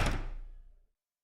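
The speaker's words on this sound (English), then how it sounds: "shutting the door with a bang" A door slams shut with a single loud bang in an indoor room, followed by a short decaying rumble and then silence.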